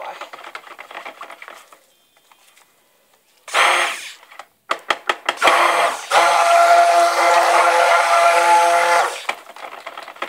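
An electric blender whirs loudly through a batch of tea tree soap, starting with a short burst, then a few stuttering pulses before running steadily for about three seconds; quieter handling noises sit around it.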